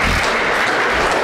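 Steady crowd applause from a church congregation, dense and continuous clapping with no break, heard alone for a short moment.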